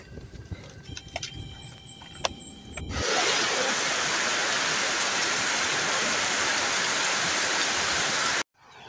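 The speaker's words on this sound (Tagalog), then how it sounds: "Malakas na yung ulan doon sa kabila. Narinig na natin." Scattered ticks and soft clatter give way suddenly to a loud, dense roar of heavy rain pouring steadily, then stopping abruptly.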